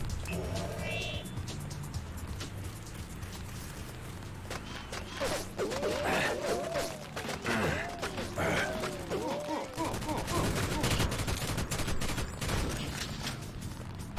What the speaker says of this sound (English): the robots seem to be shooting at me now.